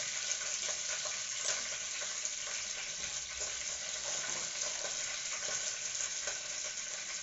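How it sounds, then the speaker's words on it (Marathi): Mustard seeds splutter in hot oil with garlic paste in a pan for moong dal khichdi. A dense, steady sizzle and crackle runs close and continuous throughout, with no voices. "मोहरी चांगली तडतडायला लागली."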